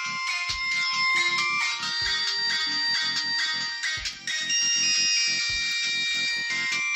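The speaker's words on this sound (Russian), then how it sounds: "Давайте проверим, настроим, какие же есть мелодии. Так, системные." A system ringtone melody plays from the loudspeaker of a Philips Xenium E111 button phone, a bright, electronic sequence of short beeping notes repeated in a quick rhythm, loud and close with no talking.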